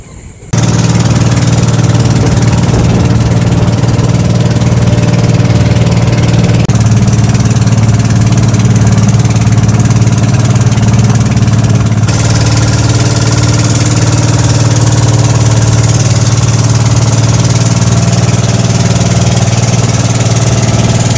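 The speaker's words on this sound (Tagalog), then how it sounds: "Sakay na tayo ng bangka." A boat engine idles before departure off Sibuyan in Romblon, a loud, steady mid-pitched chugging drone that runs unbroken for about twenty seconds with no voices.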